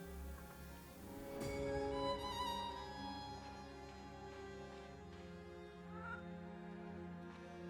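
A chicken in the video game Reka gives a few faint clucking calls over a quiet, sustained musical backdrop.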